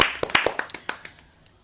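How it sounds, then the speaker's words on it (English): A small group claps a round of applause for key workers during lockdown: roughly a dozen distinct, close hand claps that start brisk and quickly thin out and fade to silence. "we just want to give them a round of applause now, just to sort of thank you to the key workers."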